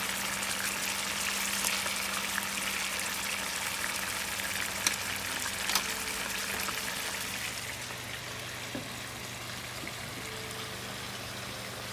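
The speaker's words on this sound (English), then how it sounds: "I can actually hear it starting to sizzle when it's out of water." A steady, crackling sizzle of cauliflower rice frying in a pan, continuous and close, with occasional small pops and no talking.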